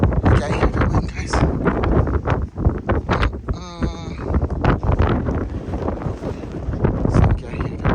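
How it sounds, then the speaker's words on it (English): Strong wind gusts roar and buffet the microphone during a big snow storm, rumbling low and loud in uneven surges, with a person speaking over it. "So you can hear the wind gusting."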